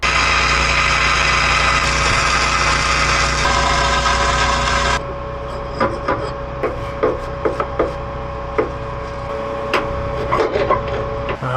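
A generator powering a welder for axle repair on an enclosed trailer drones loudly and steadily for about five seconds, then drops to a quieter hum broken by irregular sharp crackling ticks.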